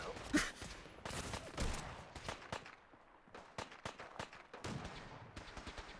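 Gunfire in the video game Fallout, a series of sharp repeated shots in irregular bursts, some close and loud, others softer, continuing across the whole stretch with brief lulls.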